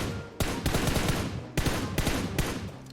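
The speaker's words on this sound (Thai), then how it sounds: "คือยิง M4 ไม่โดน" Full-auto M4 rifle fire in PUBG Mobile, loud close bursts of rapid shots in three or four sharp volleys separated by short pauses, alone without talk.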